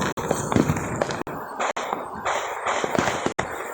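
Fourth of July fireworks go off in a run of sharp, close bangs and crackling bursts, several sudden pops spaced irregularly through a noisy outdoor scene.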